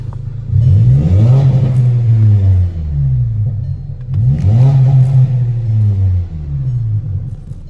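A car with a 2.0-litre naturally aspirated engine and custom exhaust revs twice, each blip rising to a loud rasping roar and then falling back to a rumbling idle, heard close and with no talk.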